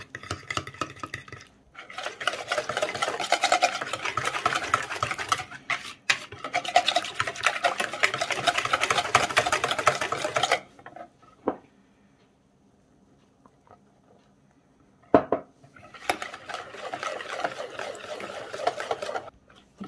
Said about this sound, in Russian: Постепенно добавляю муку и замешиваю кляр